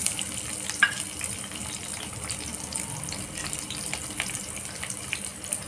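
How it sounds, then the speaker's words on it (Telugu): Onions frying in two spoons of oil in a pan for a restaurant-style paneer masala curry, giving a soft, steady crackling sizzle with occasional brief clinks, close and continuous with no voices. "కొంచెం కలర్ మారేంత వరకు దూరగా వేయించుకోవాలి."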